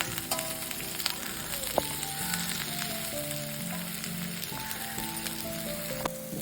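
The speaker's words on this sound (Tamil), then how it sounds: "நல்லா பாகக்காவை ஒரு 7-8 நிமிஷம் வதக்கணும்." Bitter gourd sautéing in a pan for a crispy fry, with a steady, close sizzle and frying crackle that runs the whole time, scattered small pops and stirring clinks, no voices.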